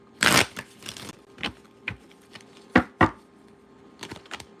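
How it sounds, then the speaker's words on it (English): Tarot cards riffle and snap in quick bursts, a loud shuffle at the start followed by several lighter flicks and taps, close and with no voices. "Let me get a shuffle. Let me shuffle."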